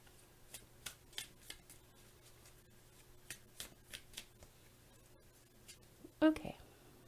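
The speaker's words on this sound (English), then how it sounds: "So I'm just going to keep shuffling here until I feel Spirit is telling me to stop." Tarot cards are shuffled in short soft riffles and flicks that repeat irregularly and faintly, close by, with a sharper knock near the end.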